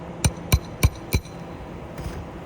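Four sharp, evenly spaced hammer blows ring out on a roof while a new shingle is fitted with a roof stake where damaged plywood underlayment sits beneath; the hits are close and loud, then a faint fifth tap follows.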